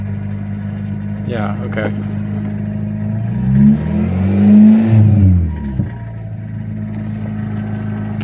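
A Plymouth Laser engine runs at a rough, loud idle, then revs up in a swelling burst before dropping back, with brief talk in between.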